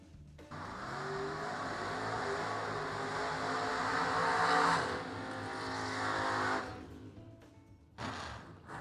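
Drag racing cars launch down a racetrack, a loud sustained engine roar that builds, swells and fades over several seconds before a brief second burst, heard from a distance with crowd ambience.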